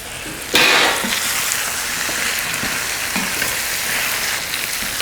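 Chunks of orange capsicum drop into a hot pan and start frying, a sudden burst of sizzling that settles into a steady, moderately loud crackle with occasional stirring.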